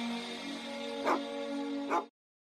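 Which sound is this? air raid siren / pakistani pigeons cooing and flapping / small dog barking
small dog barking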